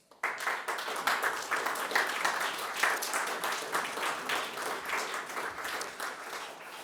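An audience applauding at an address for a museum, a dense, steady patter of many hands clapping that begins abruptly and carries on evenly for several seconds, slowly tapering at the end.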